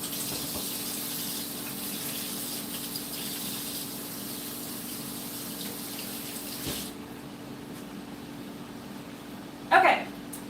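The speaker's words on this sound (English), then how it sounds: "I'm going to wash my hands." Tap water runs steadily as hands are washed at a kitchen sink during a home cooking session, a continuous hiss for about seven seconds that then cuts off, followed by a brief splash or clatter near the end.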